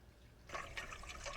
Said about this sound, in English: And then fill some water in it, right up to the holes.